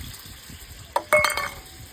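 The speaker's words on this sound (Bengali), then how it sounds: "এরপরে এই যে সর্ষে বাটাটা যেটা বেটেছিলাম সেটা এই যে ছেঁকে দেবো।" Ground mustard paste is strained through a sieve in a home kitchen, heard as a short wet stirring scrape with a couple of light metallic clinks near the middle, close and fairly quiet.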